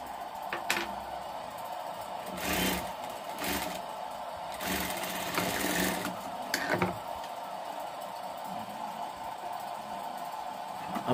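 A sewing machine runs in short, steady bursts while stitching a 30-inch umbrella, its motor whirring at close range with brief pauses between runs.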